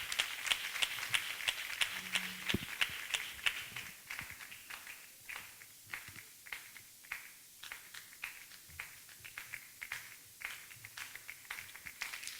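Audience applause at an association annual general meeting, scattered handclaps in a quiet hall, fairly faint and thinning out into a few individual claps as it goes on.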